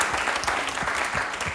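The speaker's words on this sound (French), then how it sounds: "On peut encore acclamer Abbé Prunel." An audience at a gospel choir event applauds for a priest, Abbé Prunel. Steady, dense clapping from many hands rolls on without pause at moderate volume.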